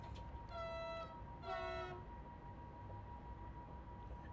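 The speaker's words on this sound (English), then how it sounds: "We'll just let the train keep going for it." A Vectron electric locomotive running in Train Simulator Classic on the Prerov to Stare Mesto route gives two short tonal horn blasts over a quiet, steady rolling rumble, with no voices.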